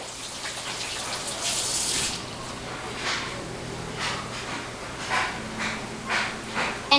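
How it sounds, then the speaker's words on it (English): Hands scrubbed under a running tap in a home kitchen, a steady gushing stream with shifting splashes as the hands move through the flow, close and unaccompanied by talk. "Make sure you wash your hands thoroughly so you have no germs."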